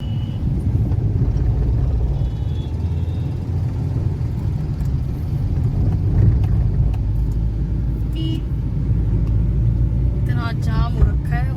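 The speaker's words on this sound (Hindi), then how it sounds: "मैं दिखाते हूँ कितना जाम हो रहा है।" A traffic jam with cars on a hot, sunny day in Punjabi Bagh brings a constant low engine rumble and road noise, a few short horn toots near the end, and people talking over it throughout.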